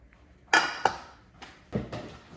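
A cheap Temu pan handled on a hard surface, giving a few sharp metallic clanks and knocks spaced irregularly, close and fairly loud with quiet gaps between.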